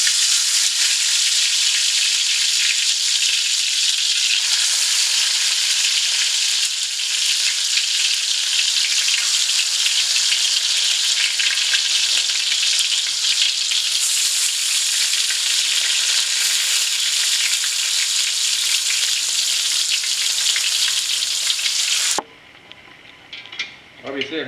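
Marinated chicken pieces for Delhi-style chicken barrah sizzle loudly in a hot pan, a dense, continuous hiss of frying that runs close and unbroken before cutting off near the end.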